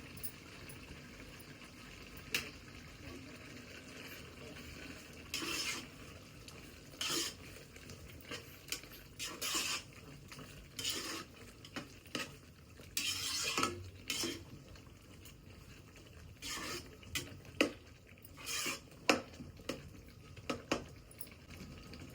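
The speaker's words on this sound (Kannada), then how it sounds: "ಎಣ್ಣೆ ಬರೋವರೆಗೂ ಫ್ರೈ ಮಾಡ್ತೀನಿ ಮೇಲೆ ಎಣ್ಣೆ ತೇಲ್ಬೇಕು" Mutton liver gravy cooking in a pan with coriander and dill leaves, a metal spoon scraping and stirring in irregular bursts of clinks and scrapes over a low sizzling bed.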